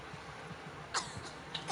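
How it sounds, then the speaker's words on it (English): A female character in the video game Resident Evil 4 gives a few short, wet coughs, as if coughing up blood, fairly faint against a steady hiss of game background noise. "Oh boy, she's coughing up blood."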